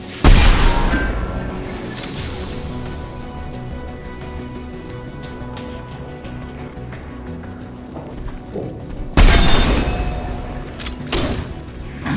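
A loud explosion booms in Mass Effect 2, its broadband blast striking at the start, rumbling and fading, then a second heavy blast erupts near the end with a similar decaying roar.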